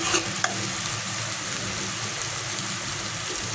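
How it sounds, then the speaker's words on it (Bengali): Ginger and garlic fry in a pan with a steady, dense sizzle throughout, close up, plus a couple of brief stirring clinks near the start and no voices. "দেখুন, আদা রসুনটাকে আমি ভেজে নিয়েছি"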